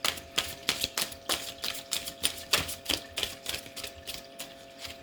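Crisp, rapid papery flutters and clicks in uneven bursts, close up, from tarot cards being riffled and shuffled, with no talking.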